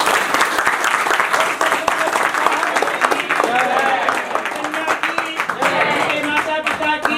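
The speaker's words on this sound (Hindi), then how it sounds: "तो एक बार जोरदार ताली तो हो जाना चाहिए।" Wedding guests clap loudly and continuously in a dense, steady burst of applause indoors, with voices mixed in underneath.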